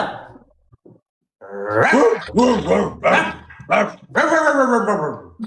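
A person's voice imitates a dog, giving a string of loud, throaty barks and growls after a brief quiet pause.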